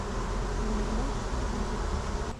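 Dense, steady buzzing of a honey bee swarm gathered on a hive cover during transfer from a bucket to a hive box, close and continuous throughout with no talk.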